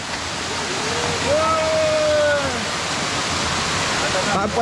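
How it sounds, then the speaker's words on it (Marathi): A small waterfall in Zirad pours with a steady broadband rush of falling water, close and continuous, while a brief whistling tone rises and falls over it. "एक धबधबा क्रॉस करावा लागतो छोटासा"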